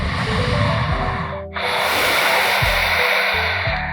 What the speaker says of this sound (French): On prend encore 3 respirations ici.